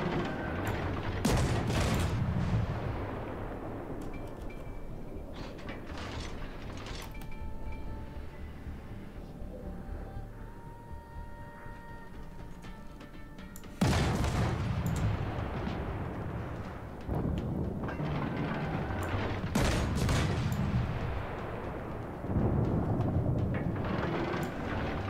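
World of Warships naval artillery, with heavy booming salvos that come in loud clustered bursts and separate rumbling stretches, each volley followed by a long decaying roar, and no talk heard over it.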